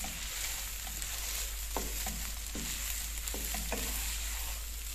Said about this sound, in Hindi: ऊपर से थोड़ी देर इसको भूनना है कि सूजी जो है वो जज़ब कर ले।